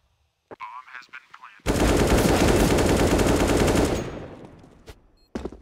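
Sustained Five-seven pistol gunfire in the Counter-Strike video game, a dense, loud stream of rapid shots lasting about two seconds before trailing off, with brief speech before and after.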